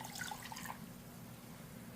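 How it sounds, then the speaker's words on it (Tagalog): Water poured from a container into a bowl to make a cornstarch slurry for a beef pares dish, a steady close trickle lasting about two seconds with no talking. "So, maglalagay ako ng tubig."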